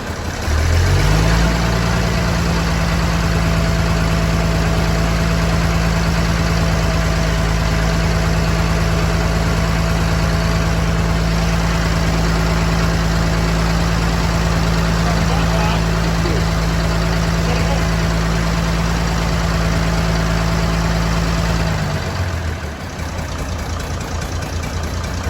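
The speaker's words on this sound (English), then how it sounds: "Rev it up and leave it revving a bit." An old tractor engine holds a steady revved-up drone with a strong low hum for about twenty seconds, then drops off abruptly near the end; no clear talk over it.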